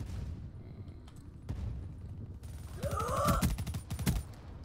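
Gunfire in Call of Duty Black Ops 3: scattered distant shots, then a busier stretch of rapid bursts mixed with whooshing game effects, moderately loud and fading toward the end.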